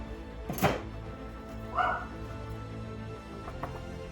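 Dog barking indoors: one loud bark near the start, then a shorter, higher yip about a second later, against a quiet room background.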